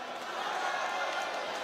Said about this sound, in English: Fans going wide and cheering their man,